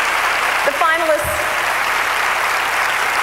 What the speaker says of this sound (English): yeah, that is something to clap about, isn't it?